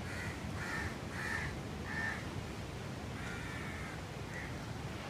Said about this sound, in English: Here we have some of the local residents, the crows.